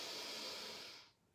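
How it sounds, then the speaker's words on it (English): A slow, deep breath drawn in during a calm yoga flow, a soft airy hiss that swells steadily for about a second, then fades to near silence. "And again, breathing in."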